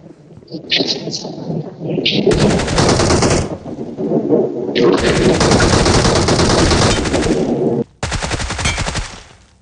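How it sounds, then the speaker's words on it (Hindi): Heavy automatic gunfire in a mobile battle royale shooter, loud sustained bursts of rapid fire with a brief pause before a final volley, layered over game ambience with a voice talking underneath. "यहाँ पे ना ऊपर की तरफ से ना फायरिंग वगैरह की आवाज़ आ रही थी"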